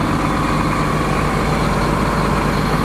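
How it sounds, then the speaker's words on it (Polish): A Massey Ferguson 8730S tractor's 8.4-litre six-cylinder diesel idles steadily outdoors at about 1000 rpm at close range, a deep continuous rumble with a constant low throb and no voices. "posłuchamy sobie pracy silnika na zewnątrz. 1000 obrotów jest około ustawione."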